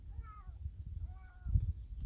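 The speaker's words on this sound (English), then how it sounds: "with a bonus cat." A cat beside a Vulcan Main Street 1500 motorcycle gives two short, fairly quiet meows with a low rumble of handling noise underneath.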